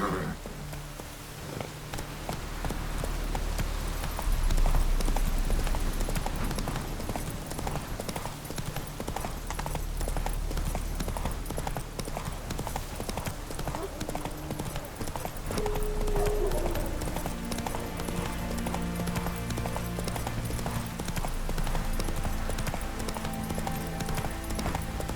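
A horse gallops in The Witcher 3: Wild Hunt, with steady rhythmic clip-clop hoofbeats and an occasional whinny over soft rain.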